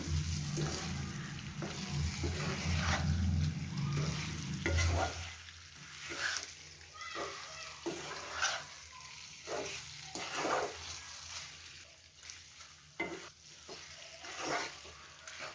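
A pan of chandhuva fish and okra tamarind curry is stirred, with a thick bubbling simmer at first giving way to scattered scrapes and wet knocks of the spoon against the pan.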